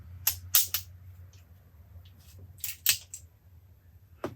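Metallic clicks and scrapes as a cartridge is slid back into the cylinder of a Smith & Wesson 357PD revolver, a few sharp close handling taps in two brief clusters with a final click, no talking.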